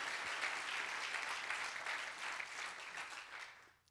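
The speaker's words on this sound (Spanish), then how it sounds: "Dele un fuerte aplauso al Señor." Dense, sustained clapping from a church congregation applauding during a service, steady and fairly distant, tapering off at the end.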